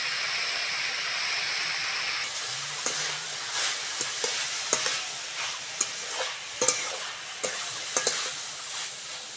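Cauliflower, peas, tomato and green chili fry in a hot pan, a steady close sizzle with bursts of stirring scrapes and clatters through the second half; no voices.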